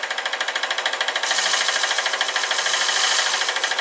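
A skew chisel cuts the bottom of a staved wooden ring spinning on a lathe, giving a steady, rapid chattering rattle that grows louder and fuller partway through and runs continuously up close.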